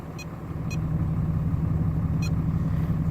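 A Cummins diesel engine idles steadily while warming up in snowy conditions, a low even rumble with faint sharp clicks or squeaks heard a few times over it.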